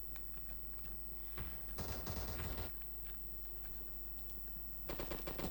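Video-game gunfire comes in two quick automatic bursts, the first about a second long and the second near the end, against a faint steady background hum.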